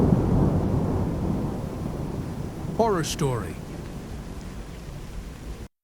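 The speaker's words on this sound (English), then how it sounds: "Disturbing thunderstorm." Steady rain and a low rumbling thunderstorm roar fill the stretch, with a voice speaking briefly over it midway before the sound cuts off abruptly.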